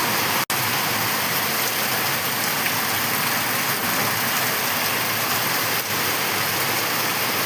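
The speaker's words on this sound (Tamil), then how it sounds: "உங்கள் ஊரில் இப்படி மழை பெய்யுதா?" Heavy rain pours steadily in a village, a dense, loud, even hiss of downpour with one sharp click near the start and no voices.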